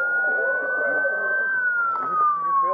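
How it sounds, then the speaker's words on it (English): A police car siren wails continuously at close range in a steady tone that slowly drops in pitch, with people talking over it. "will you go turn off my siren there?"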